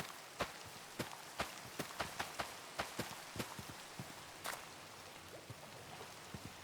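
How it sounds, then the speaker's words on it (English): Rain falls in the Minecraft video game as a soft, quiet hiss, with irregular sharp taps and ticks scattered throughout and thinning out toward the end. "Rain, rain, rain."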